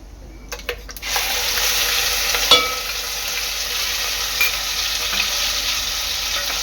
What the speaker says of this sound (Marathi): वाटण चांगलं तेलात शिजून घ्यायचं आहे